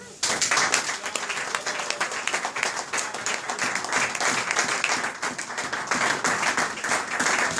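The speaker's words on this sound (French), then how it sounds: "Acclamons pour le Seigneur." A church congregation bursts into sustained applause during a Sunday service, dense and steady clapping filling the room close by, with faint voices mixed in.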